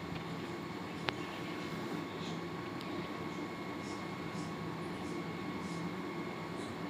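Inside a moving carriage of the Navjeevan Superfast Express from Chennai Central to Ahmedabad, a steady low rumble runs under a constant mechanical hum. A single faint click cuts through partway, and nobody speaks.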